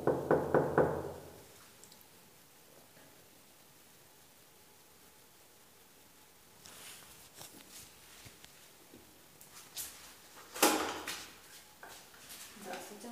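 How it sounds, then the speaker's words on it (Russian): Knocking on a house door with a broken doorbell, a few sharp raps near the start, then quieter bumps and a second burst of knocks later, with faint voices in the background. "Звонок не работает. Сразу постучать надо."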